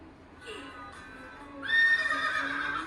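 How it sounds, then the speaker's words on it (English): A horse neighs in a long, rising whinny that swells louder in its second half, heard alone at moderate distance. "Horse. Horse."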